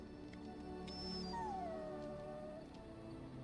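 A dog howls in Dragon Age Origins, one long wavering howl that slides downward over a bed of steady game ambience, preceded by a brief higher yip.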